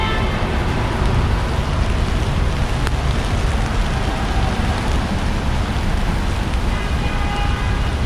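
Steady heavy rain pours down onto pavement in New York City's Chinatown, a constant loud hiss, with faint passing traffic in the background.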